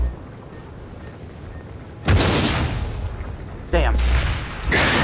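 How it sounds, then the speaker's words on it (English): Guided rockets fired from the UEP assault rifle in Farpoint, heard as loud booming blasts that erupt suddenly after a quiet lull, a second burst following about a second and a half later, each with a roaring wash of noise. "The UEP assault rifle can hold a total of 5 guided rockets"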